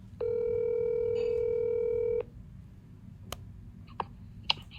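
A telephone dial tone sounds steadily for about two seconds as a phone call is placed, then cuts off, followed by a few sparse clicks and taps in a quiet room.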